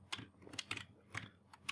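Short bursts of key presses on a computer keyboard, a few scattered taps with brief pauses between them, close and fairly quiet.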